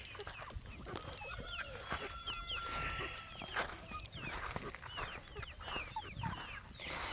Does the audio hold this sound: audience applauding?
no